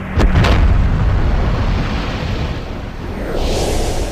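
A bouncing bomb detonating deep against a dam wall, a loud, heavy boom that opens abruptly and then rolls on as a sustained low rumble and roar that swells again toward the end.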